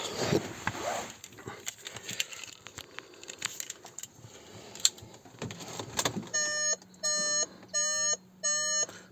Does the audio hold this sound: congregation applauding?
no